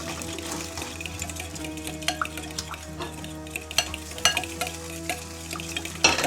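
Food fries in hot oil in a pan, a steady crackling sizzle with scattered sharp pops and stirring clatter, close and moderately loud, with no speech.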